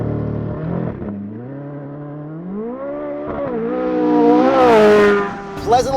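A 2023 Corvette C8 Z06 launches hard under launch control on a wet surface, its engine rising steadily in pitch as it accelerates through the gears, loud and close, with a brief exclaimed voice near the end.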